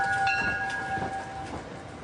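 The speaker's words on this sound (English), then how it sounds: "every morning hundreds of locals board these trains bound for Wall Street" Commuter trains in Ridgewood carrying locals toward Wall Street and New York's downtown financial district, heard as a steady rumble of rolling rail cars with sustained high whistle-like tones running throughout.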